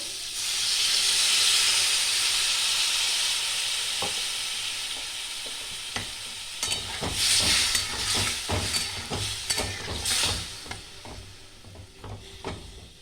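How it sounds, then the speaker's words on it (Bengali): Water poured into a pan of simmering mango chutney with turmeric sets off a loud, sustained steamy hiss for several seconds, then fades into a softer sizzle broken by irregular clattering scrapes of stirring. "এরপর আমি অল্প একটু জল দিয়ে দেবো।"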